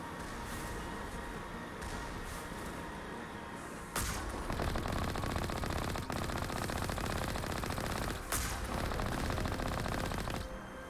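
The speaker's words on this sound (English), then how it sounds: "Probably gonna hear explosions all over the place. That's because there's like 2 other turrets that are firing at me." Turrets fire continuously with explosions in the video game Mass Effect 1, a loud, dense barrage of rapid gunfire that intensifies partway through, with no talking.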